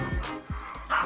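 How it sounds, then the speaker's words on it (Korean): A young dog barks fiercely at a visiting family member indoors, giving rapid sharp yips and barks that crowd together over a noisy background. "같은 친정 식구인데도 앙숙을 만난 듯 맹렬하게 짖으며 노래 봅니다"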